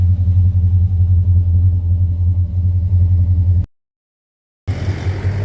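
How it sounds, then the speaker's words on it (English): A Holden Commodore with a 60mm twin exhaust rumbles steadily nearby with a deep, loud low tone, then cuts out briefly before the rumble returns. "he's off on his merry way now with a much tougher sounding Commodore, with his 60mm twin system back into 76mm or 3-inch"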